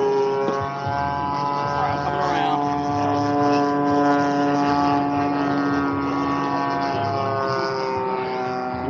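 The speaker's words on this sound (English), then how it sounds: "You heard the motor, wah, wah, wah, wah, wah, wah." A model aircraft motor misfires in flight, its steady buzzing drone pulsing with a wavering, sputtering rhythm. It stays continuous and fairly loud throughout, with voices talking over it.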